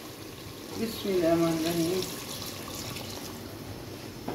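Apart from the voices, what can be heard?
water poured into pan with roasted cumin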